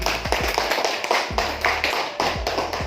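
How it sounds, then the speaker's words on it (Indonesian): Applause from an audience at an education workshop session, heard as rhythmic, close hand claps in irregular bursts with low thumps mixed in, fairly loud and without any talking. "Ya, kita beri aplaus sekali lagi."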